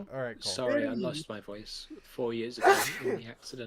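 A single sharp sneeze bursts out partway through relaxed group conversation. Voices talk before and after it.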